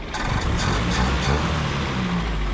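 A 1967 International Scout, an abandoned project vehicle, revs loudly up close with a dense, rough roar that holds steady for a couple of seconds.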